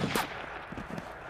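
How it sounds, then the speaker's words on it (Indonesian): Gunshots fired several times in a film scene from Breaking Bad season 3, heard as a few quiet, muffled bursts that are faint and low in level. "suara tembakan terdengar beberapa kali"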